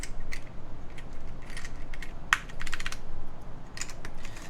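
A mechanical keyboard fitted with SKCL Green linear switches and a black plate is typed on in irregular bursts of crisp, close clicks, with short pauses between keystrokes and no talking.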